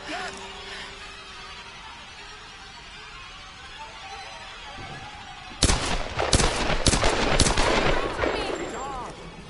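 Enemy guns open fire in the 2013 Tomb Raider reboot: after several quiet seconds of low ambience, sudden loud bursts of rapid automatic gunfire erupt and keep going, with voices talking now and then.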